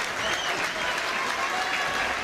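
A football crowd at Barnet versus Wrexham gives Curtis Weston warm, steady applause as he leaves the pitch, the clapping dense and unbroken throughout.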